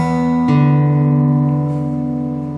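A guitar fingerpicking pattern is heard briefly, close and fairly loud, with a struck chord ringing on and sustaining for about two seconds.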